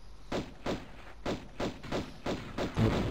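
Repeated muffled explosions in a video game, about eight dull thumps at a fairly steady rhythm with short gaps between them, moderately loud and unaccompanied by talk.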